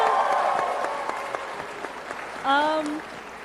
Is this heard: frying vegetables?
no